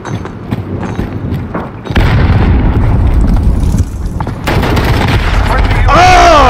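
Loud, close grenade blasts and rapid gunfire from the video game Call of Duty 3 pound in dense bursts, with a voice heard among the explosions.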